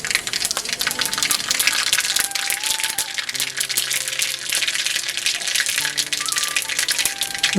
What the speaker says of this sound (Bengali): শুকনো লঙ্কা তেজপাতা দিলাম সর্ষে দিচ্ছি কালো সর্ষে